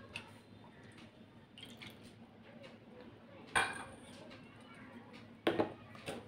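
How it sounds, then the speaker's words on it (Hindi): Two eggs and a cup of oil get mixed in a bowl for an apple pie cake: soft, wet squishing under low background sound, broken by a few sharp utensil clinks against the bowl. "हम लोग इसे मिक्स कर लेते हैं।"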